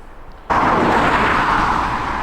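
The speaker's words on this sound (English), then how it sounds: "sorry about the road noise to start with" Road traffic noise bursts in abruptly after a short quiet moment outdoors, a loud steady broadband roar of a vehicle passing nearby that holds on without letup.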